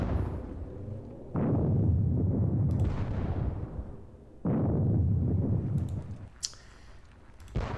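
Artillery firing in the video game Napoleonic Battles, two heavy booming cannon blasts with rolling rumble tails that fade over a second or two, plus a few faint clicks between them.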